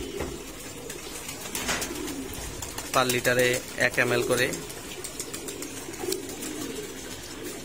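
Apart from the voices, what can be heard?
racing pigeons cooing before their bath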